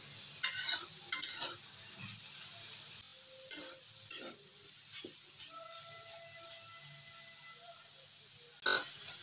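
Coriander leaves dry-fried in a kadai without oil, sticking to the pan as the juice dries: sparse, sharp spatula scrapes and clinks over a faint steady hiss, close and otherwise quiet.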